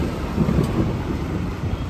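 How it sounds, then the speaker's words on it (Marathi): Strong stormy wind roars steadily during a heavy downpour, a dense, rumbling wash of buffeting on a nearby microphone with no one speaking. "वादळ वारा सुटलाय ग"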